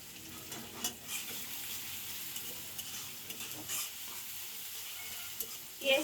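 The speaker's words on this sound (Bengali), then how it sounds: "পেঁয়াজটা আমি একটু ভেজে নরম করে নিব।" Onion frying in a pan until soft, a steady low sizzle running throughout with occasional scrapes of stirring, fairly quiet and close, with no voices.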